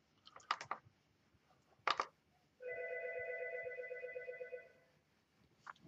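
An Algo 8180 alerter rings for an incoming call with one loud electronic warbling tone burst lasting about two seconds, preceded by a few clicks and button taps nearby.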